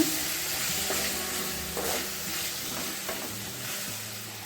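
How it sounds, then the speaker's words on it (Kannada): Chopped tomatoes frying in a pan after onions, a low steady sizzle with occasional stirring scrapes, fairly quiet and close, no voices. "ಟೊಮೆಟೊ ಚೆನ್ನಾಗಿ ಫ್ರೈ ಮಾಡ್ಕೊಳ್ಳೋಣ"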